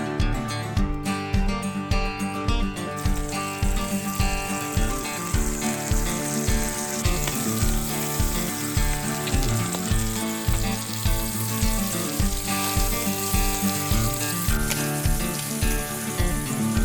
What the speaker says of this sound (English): I'm just gonna fry them whole.